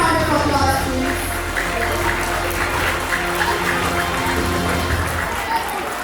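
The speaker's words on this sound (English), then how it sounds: "I would request everyone to give them a big round of applause, please." Audience at an evening award ceremony for a Gita chanting competition applauds steadily, a dense wash of clapping filling the hall from start to end, with a low hum underneath.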